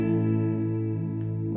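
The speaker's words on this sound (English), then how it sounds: "We can hear that there is already some distortion going on with the tone control" Sustained distorted guitar-like tone through the Scirocco distortion effect on its default preset, a steady harmonic-rich drone with a mild fuzzy edge, held alone without talk.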